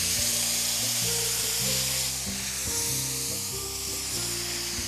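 Fish sizzles in a hot pan, a loud, steady crackling fry with occasional stirring noises, no voices.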